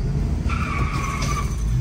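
A car with a blown head gasket skids along dirt driving trails, loud high tire squeal rising over a constant rumbling engine and road noise, no voices.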